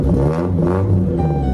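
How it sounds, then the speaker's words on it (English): BMW E36 with a loud end muffler, its engine revving up close in a short, steady, loud burst of exhaust drone, with no talking. "I'm gonna try to replace the end muffler because it's a little bit too loud for me"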